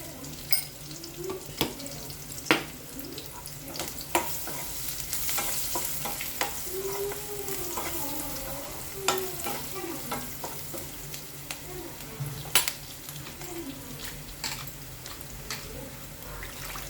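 Spices tempering in hot oil in a pan for a ponnaganti greens curry, a steady close sizzle with scattered crackles, pops and stirring clatters throughout, no talk.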